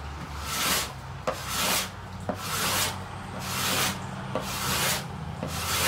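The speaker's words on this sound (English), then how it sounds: "the side's a little high. We gotta scrape it" A tool scrapes the raised binding along the side of a handmade guitar body in rhythmic strokes, about five or six rasping passes in steady succession with brief pauses between them, close up and with no talking.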